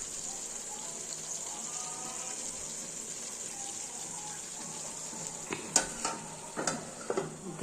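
Radish curry with dried puti fish (chepa shutki) sizzling steadily in a pan, a soft even hiss with a few sharper crackles and clatters near the end.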